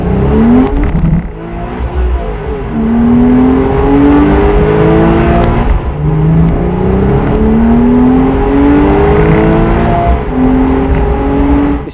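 Porsche Cayman flat-six boxer engine revving hard past 6,000 RPM, loud and close, its pitch climbing in repeated rising sweeps with brief dips between gear pulls over twelve seconds.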